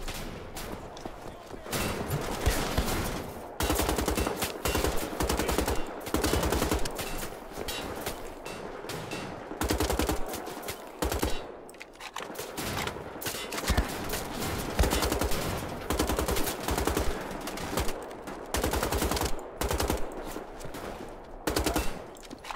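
Continuous rapid automatic gunfire rattles in long bursts with brief gaps, loud and dense, from a machine gun in the video game Wolfenstein: The Old Blood.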